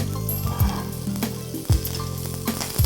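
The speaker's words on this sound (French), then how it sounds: "Un peu de beurre dans notre poêle Tefal sensorielle." Butter sizzles and fries steadily in a Tefal frying pan, a close, continuous crackling hiss with a few soft scraping knocks as the pan is handled, no voices present.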